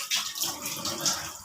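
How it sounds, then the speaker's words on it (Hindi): Hot water gushes steadily from the tap of a Japanese instant geyser during a check after a fault, a close, continuous splashing rush that lasts under two seconds. "ये गर्म पानी आ रहा है और गीज़र हमारा जो है ना चल पड़ा है।"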